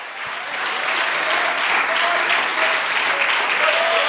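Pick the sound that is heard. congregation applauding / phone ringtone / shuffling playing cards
congregation applauding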